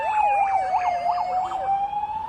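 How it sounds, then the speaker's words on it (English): An emergency vehicle siren wails on the road behind a car dealership, rising and falling in fast repeated sweeps, clear and fairly close over low traffic rumble, with no talking. "I do apologise about any sirens or any road noise that might be behind me"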